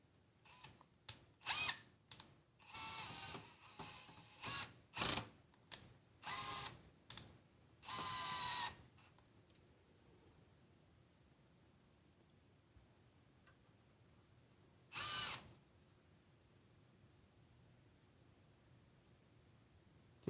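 A power screwdriver driving screws into an NZXT H6 Flow PC case: a quick run of short whirring bursts, then a longer buzz, then quiet with one more brief burst near the end, close and moderately loud.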